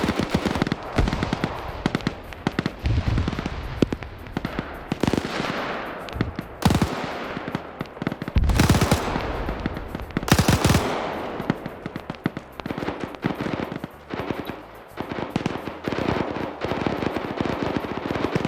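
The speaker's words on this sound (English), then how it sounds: "That's the MG42, because the ammo's coming out on the side like that." MG42 machine gun firing in a video game, long rapid-fire bursts of loud, crackling shots that pause and resume repeatedly, with other explosions and gunfire mixed in.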